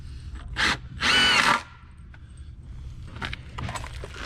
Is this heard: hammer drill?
yes